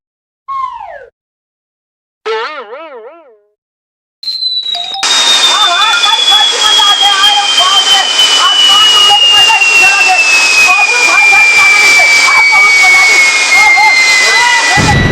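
A firework rocket launch follows two short warbling electronic tones: a loud roaring whoosh bursts in and holds, carrying a long, steadily falling whistle to the end.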